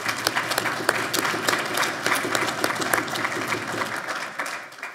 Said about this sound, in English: let's give a round of applause to Lekha